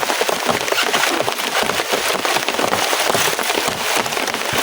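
Dense, steady patter of rain hitting a hard surface nearby, a continuous crackling hiss with no voices.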